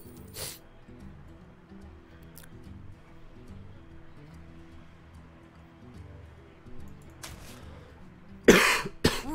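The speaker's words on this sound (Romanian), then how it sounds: "Scuze că tușesc oameni buni." Several sharp coughs from a person close to the microphone: one early, another near the middle, then a loud cluster of harsh coughs at the end, over quiet background game music.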